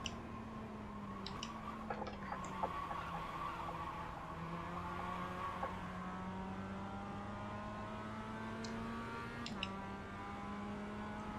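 Race car engine in the iRacing sim during a Chaos On Roads league race: a steady, droning high-revving engine note held close throughout, with brief shifts in pitch and faint tire scrub, no voices.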